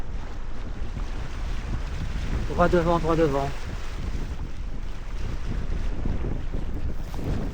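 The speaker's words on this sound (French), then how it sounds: "Il y a une quinzaine de nœuds de vent." Steady wind of about fifteen knots rushes and buffets across the microphone aboard a sailboat in Zeeland, with water wash beneath; a voice briefly speaks partway through.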